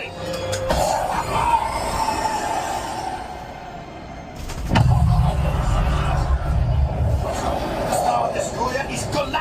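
A train rumbles and screeches with metallic wheel squeal inside the Star Wars Millennium Falcon Smugglers Run ride game, loud bursts of rolling noise under excited voices and effects.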